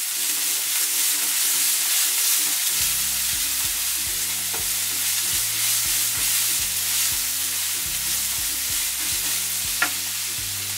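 Ingredients for masala egg bajji sizzle and are stirred in a pan, a steady close frying hiss with scraping strokes, no talking.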